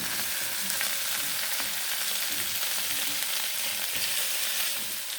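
Shrimp frying in garlic butter make a steady, dense sizzle with soft stirring crackles, close and continuous throughout with no voices.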